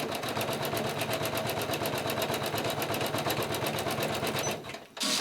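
An embroidery sewing machine stitches a Tampunto design in the hoop with a fast, even, mechanical rattle, loud and close, that runs steadily and then stops abruptly near the end.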